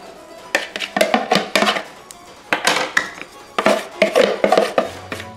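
Seared chicken pieces go back into a hot skillet with olive oil, lemon juice and Creole seasoning, giving a series of close, sharp clatters and knocks in irregular bursts.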